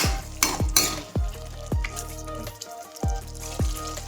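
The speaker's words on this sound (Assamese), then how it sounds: "প্ৰায় হৈছে ভাজা মাংস। 10 মিনিট ভাজিব লাগে বুলি কৈছিলোঁ মিডিয়াম ফ্লেমত" Local chicken meat sizzles quietly in a pan over a medium flame while a utensil stirs and scrapes in short repeated strokes, about one every half second.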